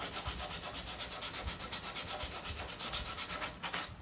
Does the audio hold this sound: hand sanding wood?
yes